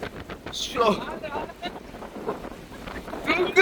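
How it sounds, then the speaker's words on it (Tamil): Strong wind gusting over a boat on flood waters in Mullaitivu, buffeting the microphone in uneven bursts, with people speaking in between. "ஓடத்துல காத்து அடிக்கிறது தான் வந்து பயங்கரமா இருக்கு"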